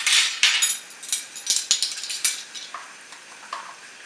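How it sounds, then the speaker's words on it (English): Chopped garlic frying in melted margarine or butter in a pan, a steady sizzle broken by repeated clinks and scrapes of a utensil stirring against metal, close and fairly loud. "I want that just to fry in the melted marg or butter just for a few minutes"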